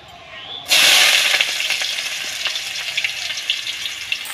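Chopped onion hits hot oil already holding whole garam masala in a village-style chicken leg chaat pan, erupting in a sudden loud sizzle after a brief quiet moment, then settling into a steady, crackling fry.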